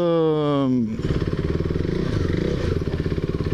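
A KTM Duke 390 motorcycle ridden off-road starts with a rising engine whine, then settles into a loud, pulsing, chugging engine note with rhythmic throbs that carries on to the end.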